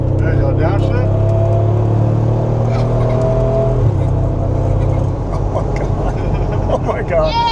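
A dream car's engine revs hard on a downshift, a loud deep roar with a rising then falling tone, up close inside the cabin while excited voices talk and exclaim over it.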